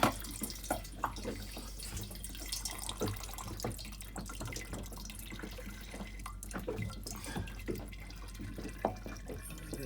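Oil draining from a Yanmar diesel engine on a Lagoon 380 catamaran, heard as a steady close trickle and dripping stream with scattered drips and small splashes throughout.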